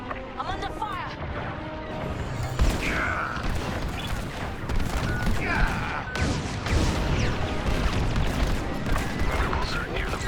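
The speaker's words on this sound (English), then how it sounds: "I'm under fire!" Starfighter weapons fire in the Star Wars: Squadrons space combat game, rapid bursts of blasts and crashing impacts layered under radio voices and dense battle noise throughout.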